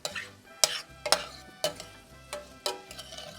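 Vegetables seasoned with salt and garlic are stirred in a pan: a soft sizzle underneath, broken by about six sharp spoon scrapes and knocks at an uneven pace, close by and with no one talking.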